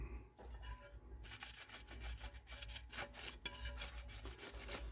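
A cloth rubs steadily across a turntable platter to clear sticky belt residue on an NAD 5040 being serviced, producing a close, continuous scrubbing swish with rhythmic strokes and no talk.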